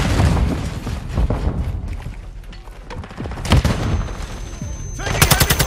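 Loud gunfire and explosive booms during a Hardpoint match in Modern Warfare 2 on Kunstenaar District, with overlapping bursts from several weapons and a sharp rapid volley at the end.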